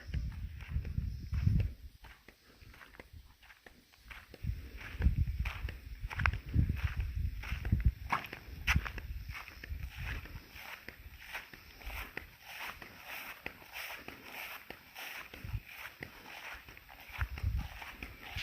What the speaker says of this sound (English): There are big old horses around here.